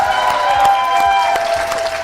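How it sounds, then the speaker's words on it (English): An audience applauds at a teacher-of-the-year award ceremony, with loud, close, individual claps standing out over a steady background tone, continuous across the brief stretch. "So let's give her another round of applause."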